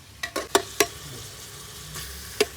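A spoon or spatula stirs food in a pan: a few sharp scrapes and clacks in quick succession, a pause, then one more, close by.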